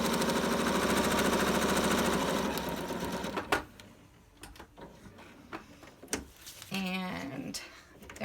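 Sewing machine stitching ribbon onto a face mask lining, a steady loud mechanical whir for about three seconds, then quieter intermittent clicks and short bursts of stitching.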